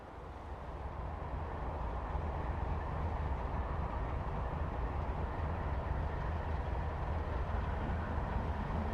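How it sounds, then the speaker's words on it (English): A deep, distant rumble of a train approaching along railroad tracks near Jasper, Alberta, swells gradually and holds steady. "A distant rumble signals an approaching train."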